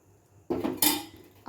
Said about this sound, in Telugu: స్టవ్ పై కడాయి పెట్టుకొని స్టవ్ ఆన్ చేసుకొని దీంట్లో ఆయిల్ పోసుకోవాలి